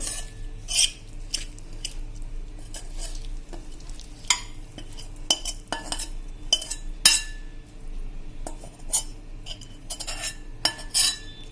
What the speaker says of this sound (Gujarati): તો હવે આપણે સર્વ કરી લઈએ